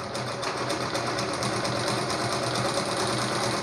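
A pico machine, the edging sewing machine, stitches steadily at close range with a fast, continuous mechanical whir and rapid needle clatter, no pauses or voices over it.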